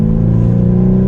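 A 2021 BMW 430i Coupe's four-cylinder engine pulls hard under acceleration, a loud, steady, close droning tone with a smooth, even hum and no talking.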